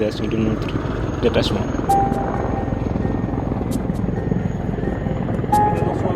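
Helicopter on a peacekeeping mission, rotor chop beating steadily and loudly throughout with a faint whine above it, with a voice speaking over it.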